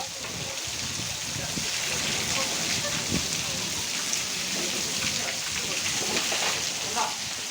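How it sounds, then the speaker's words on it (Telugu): Very heavy unseasonal downpour beating steadily on surfaces, with overflowing drains backing water toward houses; a dense, continuous hiss of rain that stays loud and even throughout, with occasional heavier splashes. "అత్యంత భారీ వర్షం వర్షాకాలంలో కూడా పడుండదేమో ఇంత భారీ వర్షం"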